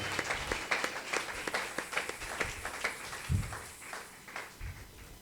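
A church congregation claps during a sermon with uneven, scattered hand claps, loud individual claps rising and falling over a few seconds with no speech.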